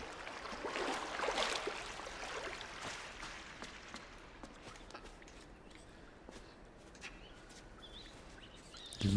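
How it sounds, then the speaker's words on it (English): Faint scattered bird chirps in the side-scrolling game Inside, sitting in a soft, noisy outdoor ambience with light rustles and no voices. "Listen to that, birds."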